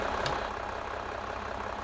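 A farm tractor engine running steadily, a low diesel rumble and broadband drone that holds even and close throughout, with a brief hiss near the start.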